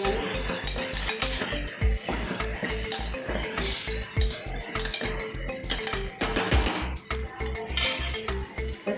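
Garam masala is stirred into a dudhi and chana dal curry in a pan. A spoon scrapes in a fast, even rhythm against the metal while the food sizzles gently underneath.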